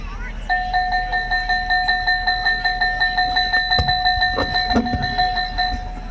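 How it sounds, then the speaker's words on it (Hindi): A steady electric school bell rings continuously for several seconds in a bright, even tone, with a few brief knocks and noises partway through. "इस प्रकार विद्यालय की घंटी बजती है"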